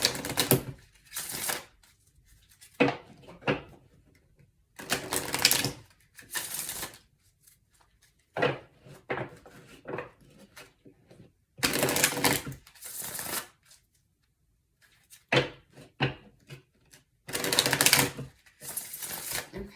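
Repeated bursts of oracle card shuffling, sharp riffles and flicks up close, separated by short silences, with no one speaking.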